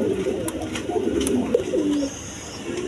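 A pair of down-shape Danish pigeons coo nearby, soft throaty calls rising and falling over a short stretch, with light background noise and no speech.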